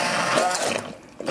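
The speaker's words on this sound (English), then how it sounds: "get my immersion blender" An immersion blender whirs steadily through callaloo stew for most of the moment, dips briefly into quieter stirring, then kicks back on loud and close.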